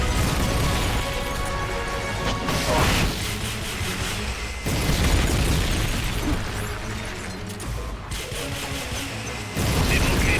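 Rocket launcher explosions in Metal Gear Solid: Peace Walker: three heavy blasts land about five seconds apart, each a sudden loud boom that settles into a rumbling, mechanical roar.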